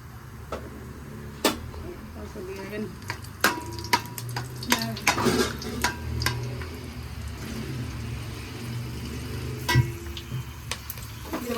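Mustard seeds, cumin and green chillies fry in hot oil for mango pulihora, a steady sizzle broken by sharp pops and spatters and a few clinks of a utensil, close by.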